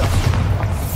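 A Bombarda spell explodes in the video game Hogwarts Legacy, a loud, sustained low boom that rolls on for about a second.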